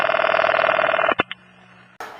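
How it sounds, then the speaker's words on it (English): Telephone sounds from a radio play: a steady electronic tone on a period phone line cuts off, followed by a couple of sharp clicks, a brief quiet hum, then a burst of line noise, close and loud. "Ringing the police department."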